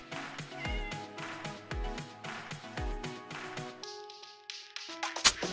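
Cat meows from Minecraft repeat in short, evenly spaced calls over a steady bed of bright game music, followed by a brief sparkly chime near the end.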